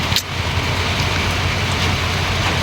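Rain falls steadily in an outdoor rural setting where young goats are out in the downpour, a close, even hiss with a low rumble beneath and no voices.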